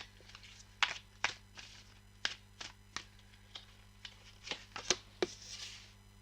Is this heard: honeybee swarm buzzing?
no